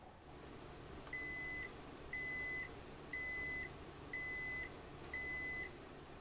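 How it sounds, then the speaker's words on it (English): Five short electronic beeps from a Zojirushi bread machine signalling the bread is ready, evenly spaced about a second apart, over a steady low background hum. "Okay, that was the beep. The bread is ready"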